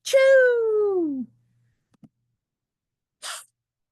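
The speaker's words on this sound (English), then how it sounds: "I cannot stop achoo. Sneezing." A voiced, sing-song sneeze from a children's book read-aloud about pigs, one long drawn-out descending cry followed a second later by a short breathy burst, close and alone with no other talk.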